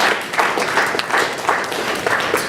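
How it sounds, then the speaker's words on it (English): An audience at a Nigerian power-sector conference applauds as a woman walks to the podium, a loud, sustained crowd clapping with slight rhythmic swells and no talking over it. "a round of applause as she approaches the podium"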